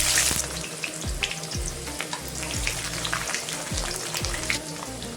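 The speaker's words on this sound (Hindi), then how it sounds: "तो फ्रेंड्स इसी तेल पे प्याज और लहसुन को मैं ऐड कर देंगे।" Onion and garlic frying in oil in a kadhai, a bright, crackling sizzle near the pan with repeated rhythmic scrapes of a spatula stirring through it.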